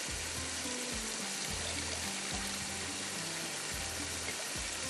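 Soaked rice goes into a pan of frying tomato and potato masala for a tahiri, a steady, quiet sizzle and crackle that runs the whole time with no talk.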